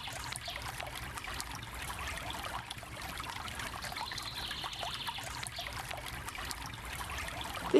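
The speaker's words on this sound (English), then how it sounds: "This is Beckenham Place Park, where the River Ravensbourne enters Lewisham." River Ravensbourne in Beckenham Place Park, a steady gentle trickle and babble of flowing water heard continuously at moderate distance, with no voices.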